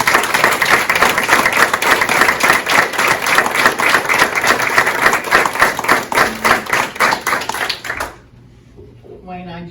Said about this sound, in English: So a round of applause for Mr. Clark.